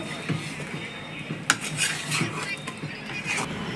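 Coriander-leaf chicken being stirred in a pan, with close scraping and clinking of a utensil against metal, one sharper knock partway through, over a low steady background.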